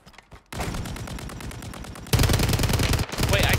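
Rapid automatic gunfire from a weapon in a first-person shooter video game, loud sustained bursts of rattling shots at close range that grow louder midway and briefly pause near the end.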